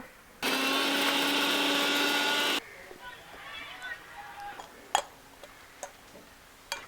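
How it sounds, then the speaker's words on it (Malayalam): A kitchen mixer grinder powders dried red chillies with a loud, steady high-pitched whir for about two seconds before it stops, followed by quiet clicks and taps of the jar. "ഇതെല്ലാം ഇനി മിക്സിയിൽ പൊടിക്കുകയാണേ"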